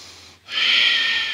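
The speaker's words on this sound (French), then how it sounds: "respiration Ujjayi" A single steady, hissing ujjayi yoga breath drawn through a constricted throat, close and fairly loud, after a brief quieter moment.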